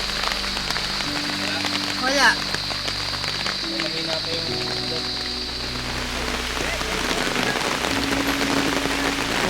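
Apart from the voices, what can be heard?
rain falling on a surface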